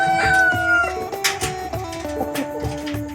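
Light Sussex and Barred Plymouth Rock cross hens, about five months old, cluck repeatedly in a coop, their short tonal calls overlapping in a steady, close rhythm.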